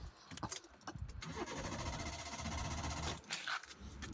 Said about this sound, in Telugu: ఎల్పిజి మీద ఎలా ఉందనేది మీకు స్టార్ట్ చేసి చూపిస్తారు